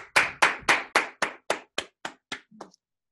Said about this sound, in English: Let's have one last round of applause for all of our performers today.